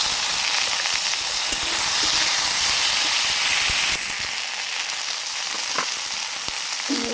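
Tomato goes into hot mustard oil with lightly fried onion and dried chilli in a kadai. A loud, dense sizzle and hiss fills the first half, then it drops to a softer steady fry.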